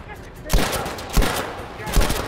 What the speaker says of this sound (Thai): เจอปืนกลข้างบนยิงนะครับ